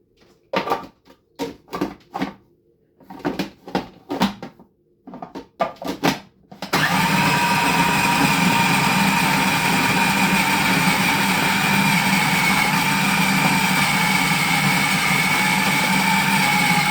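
An electric grinder minces raw chicken for kebab, starting after a few scattered knocks and clatters and then running as a steady, loud, continuous motor whir until the end.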